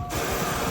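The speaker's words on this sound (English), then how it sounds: "This printer's so loud." A loud office printer in a school classroom starts up abruptly and runs with a steady mechanical whir and rattle, close by and alone.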